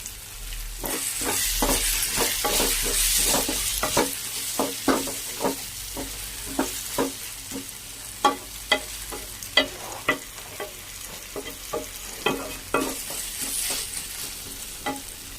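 Tomatoes sizzle steadily in a pan while a utensil scrapes and taps in a quick, irregular stirring rhythm, close and clear.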